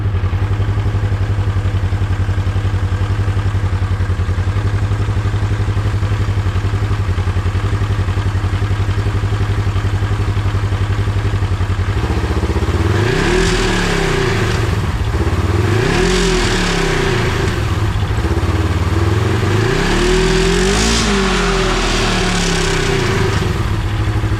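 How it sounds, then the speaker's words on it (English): A 2015 Polaris RZR XP1K idles steadily until about halfway, then the throttle is blipped several times. The engine revs up and falls back in loud, close swells. "Let me give it a little bit of throttle and you can see that."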